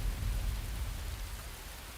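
Steady, dense rain hiss from a cartoon scene, loud and continuous with a rumbling low end like distant thunder, no voices over it.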